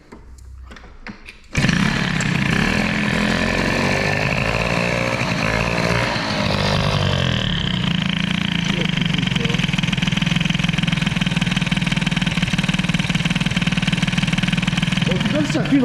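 A Peugeot 103 moped with an air-cooled Airsal 65 hybrid setup runs at a steady, loud idle close by, buzzing continuously after a short quiet start, with a voice talking over it now and then.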